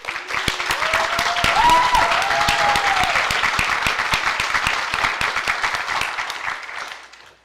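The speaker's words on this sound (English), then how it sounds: "would all the cooperating teachers please stand so we can celebrate and applaud you" An audience at a teacher pinning ceremony gives sustained applause for the cooperating teachers, with dense steady clapping and a few sharp individual claps standing out, fading away at the end.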